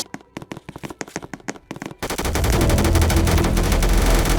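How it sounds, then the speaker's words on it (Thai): Gunfire in a Roblox prison game: a string of sharp, separate shots crackles first, then turns into a dense, loud, continuous burst of rapid automatic fire. "การยิงกันในเซิร์ฟนี้ถือว่าเป็นเรื่องปกติมาก"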